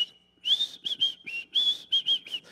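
A bright, melodic whistled Andy Griffith Show theme of short phrases with brief pauses between them, clear and close against a quiet background.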